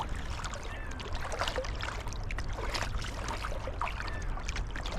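Kayak paddling near Tawas Point, East Tawas, Michigan, with soft repeated paddle strokes splashing and dripping water close by, quiet and steady over a faint background.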